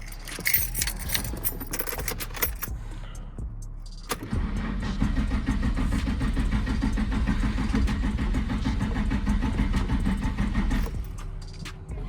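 Keys jangle up close before a car engine cranks and catches, then settles into a steady idle that runs for several seconds before cutting out near the end.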